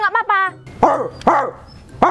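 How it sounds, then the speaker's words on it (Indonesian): A dog barks three times in quick succession, loud and close, the barks spaced about half a second apart, with a brief burst of talk just before the first bark. "Gonggong aja kok."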